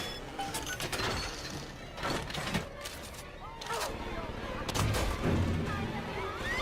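A gun turret in BioShock 2 fires in short, sharp bursts of shots that come in irregular clusters amid the clatter of combat, moderately loud and close.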